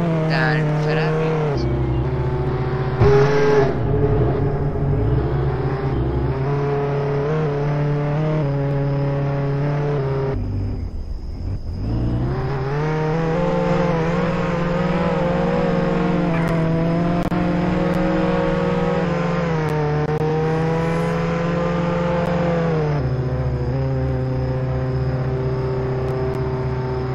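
Lamborghini and Ferrari cars racing in the Roblox game Jailbreak: steady, loud synthetic engine drones with rising and falling pitch as the cars rev and shift, one brief dip midway, with a person talking over them.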